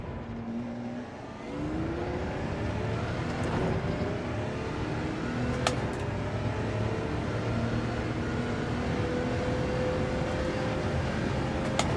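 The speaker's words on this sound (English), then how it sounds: "I love that sound on downshift. It sounds so good." Race car engine in Gran Turismo 7 at Monza, loud continuous roar with shifting revs and sharp downshift blips, steady and close throughout.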